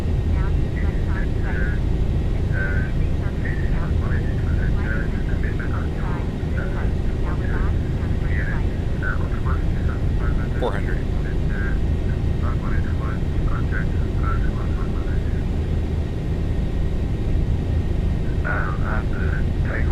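An airliner's engines roar steadily during takeoff and climb in the X-Plane 12 flight simulator, a loud continuous drone that fills the cockpit with little change from start to end, while a voice talks intermittently over it.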